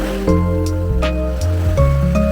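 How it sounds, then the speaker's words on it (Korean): Ocean waves at Samcheok on Korea's east coast wash and surge continuously, a loud roaring rush of water with faint musical tones layered over it. "파도 온다 파도"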